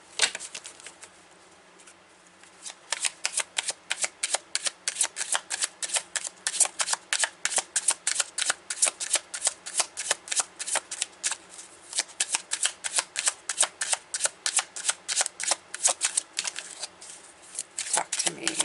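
A Marseille tarot deck shuffled close up, a long run of crisp rapid card riffles and slaps in steady rhythm after a quiet start, with no talking.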